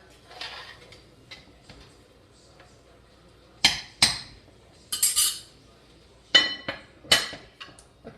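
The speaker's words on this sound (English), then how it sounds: "Give it a good stir." A utensil scraping and clinking against a pot while smothered Cajun-style okra is stirred, several short sharp clanks in bursts over a quiet background.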